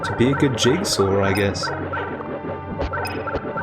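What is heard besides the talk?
bird noises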